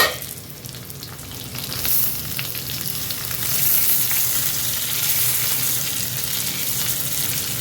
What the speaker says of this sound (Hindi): तो इस तरह से प्याज डाल देंगे। तो अब हम इसको ढक के थोड़ा टाइम पका लेंगे।